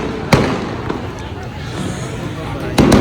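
Fireworks at a Botani Garden display in Batu Pahat pop in sharp, scattered bangs over a dense wash of crowd chatter and outdoor noise, with a couple of louder reports near the start and end.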